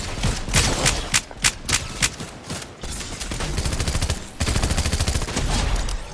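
Rapid gunfire in Fortnite, with loud automatic bursts and clusters of sharp shots rattling close by, densest in the final two seconds.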